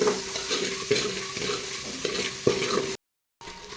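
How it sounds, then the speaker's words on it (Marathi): Ground masala paste roasting in a pan for chakolya, a steady sizzle broken by repeated scraping stirs and soft knocks, close and moderately loud, with a short silent gap near the end. "आता हा मसाला छान भाजून घ्यायचा आहे खमंग वास येईपर्यंत भाजून घ्यायचा आहे"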